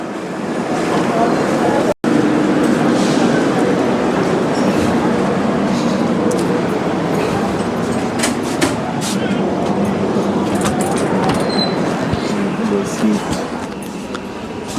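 Sealdah–Bikaner Duronto Express waiting at a station: a steady, loud broadband rumble of train and platform noise runs throughout, with people talking over it.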